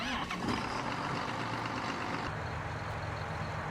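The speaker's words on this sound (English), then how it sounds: "the only tractor I've got that could really pull that is the 7610 right here. So let's fire this up." Diesel engine of a 7610 tractor in Farming Simulator 19, a continuous low rumbling drone that holds steady throughout, with the tone shifting slightly partway.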